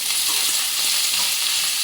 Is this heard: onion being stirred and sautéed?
yes